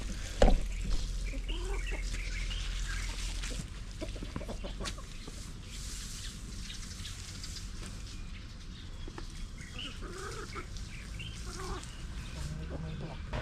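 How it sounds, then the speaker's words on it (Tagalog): Backyard chickens cluck and call intermittently at a moderate distance over a steady outdoor background, with a person talking faintly at times. "yung mga manok naman natin dito"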